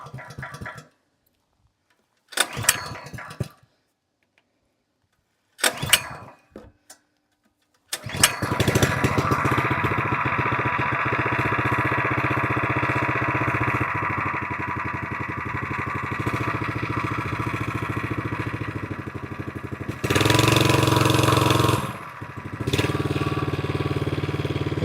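A VEVOR plate compactor's 2.8 HP 78.5cc gas engine gets a few short pull-start attempts with gaps between them, then catches and runs loud and steady, with a brief surge near the end.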